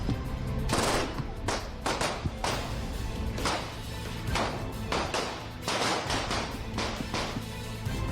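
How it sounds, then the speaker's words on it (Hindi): Rapid bursts of gunfire from attackers shooting Atiq Ahmed and his brother Ashraf at close range, loud and dense shots crackling repeatedly over several seconds with brief pauses between volleys. "हमलावरों ने अतीक अहमद पर दनादन गोलियां दागनी शुरू कर दी"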